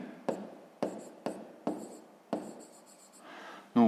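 Pen or pencil writing on paper as a fraction inequality is written out for a fifth-grade math exercise: repeated short scratchy strokes in bursts, close and alone, ending with a louder scrape.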